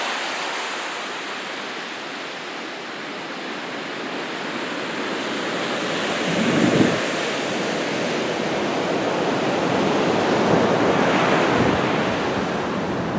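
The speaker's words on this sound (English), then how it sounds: "Nice little waves here today." Small ocean waves wash in at Portsea back beach in Australia, a loud continuous surf roar with wind buffeting the microphone and a swell of breaking water partway through, no voices.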